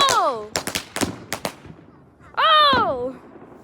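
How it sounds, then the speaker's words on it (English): Big fireworks and firecrackers go off outdoors: a quick run of sharp crackling pops comes between loud, rising and falling whistle-like tones, and the bursts are close and strong. "Look, they're sending more fireworks, more firecrackers."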